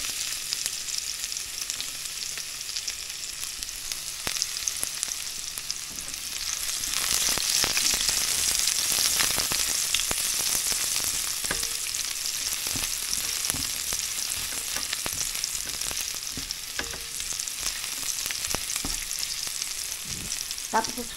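Garlic sautéing in a pan for pork mechado, a continuous bright sizzle that swells louder partway through, with scattered scrapes and taps of stirring and no talking.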